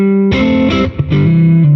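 Electric guitar chords played through a Boss Katana amp with a clean booster effect, bright and sustained, with a short pause between strums.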